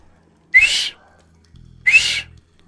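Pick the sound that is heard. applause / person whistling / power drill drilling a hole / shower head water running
person whistling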